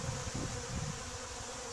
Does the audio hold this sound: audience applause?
no